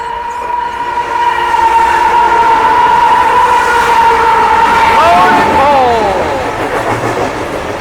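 A loaded CSX coal freight train rolls past in Germantown or Boyds, Maryland, its horn blaring in a long, loud, sustained chord over the rumble of the railcars, with voices talking nearby.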